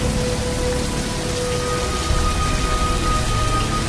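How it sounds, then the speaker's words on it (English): Steady, loud rain falling outdoors, a dense continuous hiss of drops on surfaces with a faint low rumble underneath, no talking. "Come on out of the rain now."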